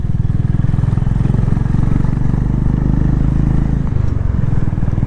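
A Honda Highness motorcycle cruises on a Delhi highway toward Pathankot, its steady thumping engine drone continuous and close, with wind rush and no speech.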